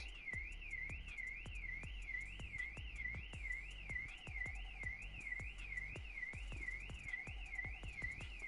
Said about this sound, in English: Car alarm.